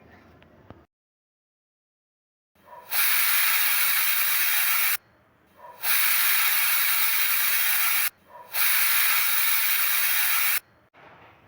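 A pressure cooker cooking khichdi on a gas stove whistles three times, each a loud sustained hiss of escaping steam lasting about two seconds, separated by short quieter gaps after an initial silence.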